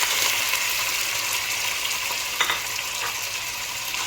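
Boneless chicken and green chilies fry in a pot for a haleem, giving a steady, close sizzle throughout with a brief stirring clatter midway.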